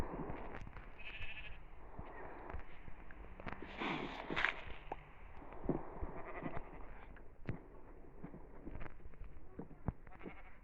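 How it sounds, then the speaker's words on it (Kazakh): Minecraft sheep bleat several times in a game, with blocky footsteps and clicks under a steady background noise. "қойлар кіріп атыр."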